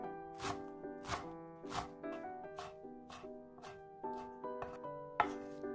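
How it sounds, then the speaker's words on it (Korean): A knife chops rolled perilla leaves into thin strips on a cutting board, crisp even strokes repeating about once a second over soft background music. "돌돌돌 말아서 가늘게 채 썰어서 준비해 주세요."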